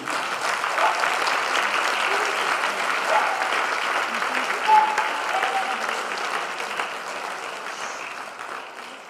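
Sustained applause from a church audience at a Pentecost service, steady clapping throughout with a dense, even texture and no break.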